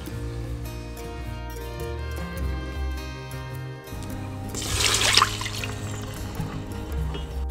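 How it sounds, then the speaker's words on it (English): Water poured into a cooking pot after browning pork for Kalua pork, a short splashing burst midway over a background of steady music. "remove from the pot and add in the water"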